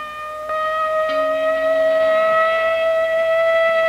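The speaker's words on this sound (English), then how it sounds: "But tomorrow, this siren may mean the real thing." Civil defense air raid siren sounding a steady, loud wailing tone with layered harmonics, starting after a brief lead-in and holding a sustained pitch throughout, with no voices over it.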